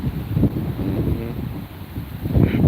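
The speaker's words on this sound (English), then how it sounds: "It's getting windy up in here." Gusty wind buffets the microphone with low rumbling bursts, steady throughout and loudest near the start and end.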